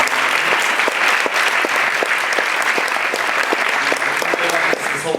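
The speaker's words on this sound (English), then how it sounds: "we'll just get another round of applause" A panel audience at an energy conference gives a loud, sustained round of applause, dense clapping from a roomful of people running steadily throughout with a few sharper individual claps standing out.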